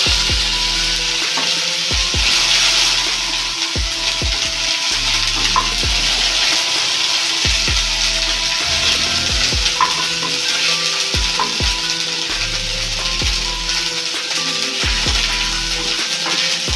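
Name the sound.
ginger paste frying and being stirred in a pan for curry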